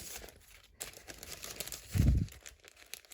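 Sheets of thin tissue paper are handled and crinkled while a crafting box is unboxed, giving soft, intermittent rustles and one louder crumpling burst near the end, with no talk.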